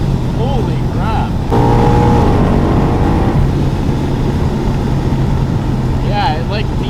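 A 700 whp ProCharged Mustang makes a pull with a loud, sustained engine roar and a steady whine over it, while voices talk and exclaim throughout.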